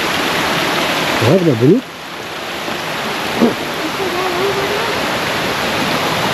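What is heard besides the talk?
river stream flowing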